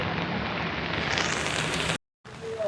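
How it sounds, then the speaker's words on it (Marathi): Light rain falls steadily beside the rain-filled Datiwali lake in Diva, a soft, even patter with no voices, cutting out briefly near the end before resuming. "आता बारीक बारीक आहे पाऊस"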